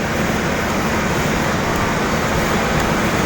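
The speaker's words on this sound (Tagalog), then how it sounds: "dami ng mga sasakyan dito yung mga nagde-deliver" Heavy roadway traffic from many vehicles, including delivery trucks, forms a loud, steady, continuous roar and wash of engine and tire noise with no distinct events, close by and unbroken throughout.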